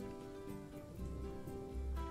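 Rain falls in the Planet Zoo video game, a quiet steady patter under a low humming game background, with no talk.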